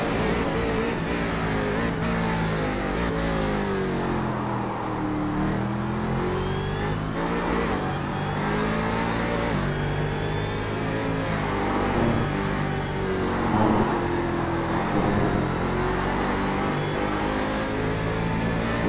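Prototype race car engine in a sim racing game, heard from an onboard view, revs continuously and loudly with rising and falling pitch through gear shifts and corners, alone without talk.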